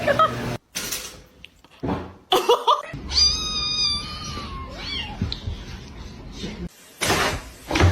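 A kitten meows and cries in a series of drawn-out, wavering calls that rise and fall, with thuds and bumps before and after and bursts of noise at the edges.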